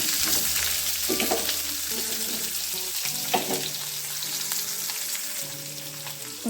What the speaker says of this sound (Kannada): ಮೊದಲಿಗೆ ಹಾಗೆ ಕಟ್ ಮಾಡಿಕೊಂಡು ಈರುಳ್ಳಿ ಹಾಕ್ಕೊಳ್ಳೋಣ